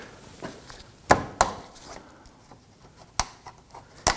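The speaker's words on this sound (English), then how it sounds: "I'm going to go ahead and remove this one here using our trim tool." A plastic retainer being pried out with a trim tool on a Toyota Camry splash shield: a few sharp plastic clicks and snaps among faint scratching and handling noises, close up, irregularly spaced, with no speech.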